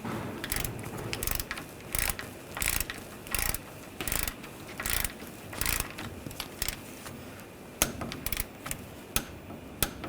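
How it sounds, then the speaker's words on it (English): Ratchet on a torque wrench clicks in repeated short bursts while tightening a castle nut on a front lower ball joint of a 2014-2018 GMC Sierra 1500, close and loud with brief pauses between strokes and no talk. "We're going to torque this nut to 26 foot-pounds."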